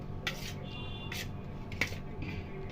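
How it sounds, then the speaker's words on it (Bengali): A paneer filling with spices is mixed in a bowl, heard as a few soft scrapes and light clinks of a utensil against the dish, close but quiet, no voices. "এসব দিয়ে ভালো করে মিশিয়ে নেব।"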